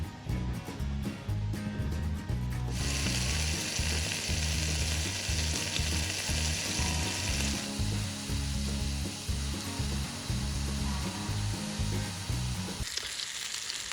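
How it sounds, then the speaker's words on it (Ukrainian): Sausages fry in a pan on a camping gas stove during a cycling and fishing trip, making a steady, close, loud sizzle with a brief stirring shift near the end and no talking. "Тут у нас ковбаски смажаться."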